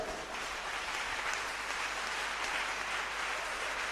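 A church congregation at a prayer service in Koumassi applauds and cheers in praise, giving a steady, dense wash of clapping and acclamation that holds at an even loudness throughout.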